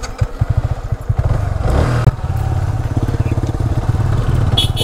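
A motorcycle ridden in a road race: the engine pulses as it starts, then settles into a loud, steady, close drone that runs throughout.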